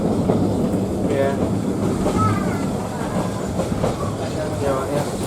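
Steady rumble and rhythmic clatter of a train rolling along rails, continuous and close, with faint voices mixed in.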